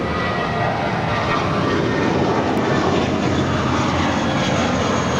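A JetBlue A320 airliner takes off at LAX with a loud, close, continuous engine roar of dense broadband rumble, steady throughout with no voices over it.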